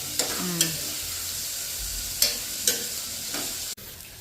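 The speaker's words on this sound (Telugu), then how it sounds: "ఇలా గోల్డెన్ బ్రౌన్ కలర్ వచ్చేంత వరకు వేయించుకోవాలి" Onions and green chillies fry in oil until golden brown for a mutton head curry, an even, close hiss with a few sharp stirring taps and scrapes at irregular intervals, no voices.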